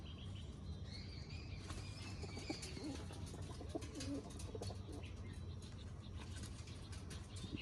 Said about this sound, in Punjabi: ਦੇਖੋ ਬਈ ਆ ਕਬੂਤਰੀ